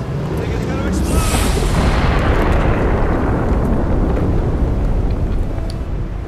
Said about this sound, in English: Brace yourselves! I think it's gonna explode!